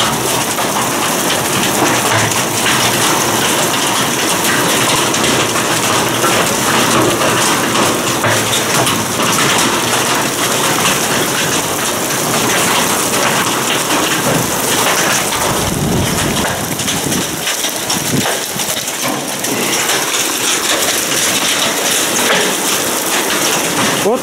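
Unusually large plum-sized hail in Yuzhnoukrainsk pours down in a loud, continuous roar of dense drumming impacts that never lets up.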